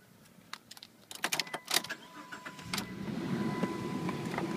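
Inside a 2002 Chrysler Sebring Limited, keys jangle and interior clicks sound before the engine starts and settles into a steady low idle hum, close and moderately loud.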